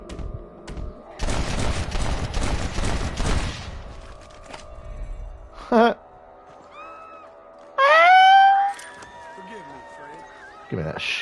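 Gunfire in the video game Red Dead Redemption: a loud, rapid cluster of overlapping shots in the opening seconds, followed by a single thump and rising whooshing game effects, with a voice talking in between.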